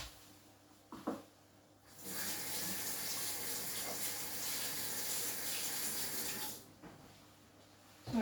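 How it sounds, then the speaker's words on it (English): Tap water running into a kitchen sink as hands are washed, a loud steady splashing rush for several seconds that starts and stops abruptly, with faint handling sounds before and after. "So I'm just going to wash my hands a minute."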